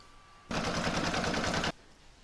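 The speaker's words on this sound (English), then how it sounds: "I'm now going to pop that back into my machine and stitch round number 2" An embroidery machine stitches a round on fabric and batting held in the hoop, making a dense, steady mechanical rattle that runs for about a second and stops abruptly.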